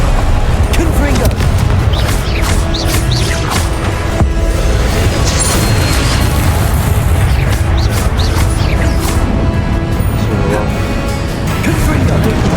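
Repeated Confringo blasting-spell explosions in the Hogwarts Legacy video game during Charles Rookwood's trial, with dense booming blasts and crashes running continuously over loud, busy combat noise and talk throughout.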